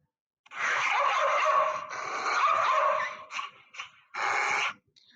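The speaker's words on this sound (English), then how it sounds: "It is the sound of a dog, a very cute and polite dog." A dog barks and yips in a continuous, excited run, then a few short separate yelps and one final burst, close and loud.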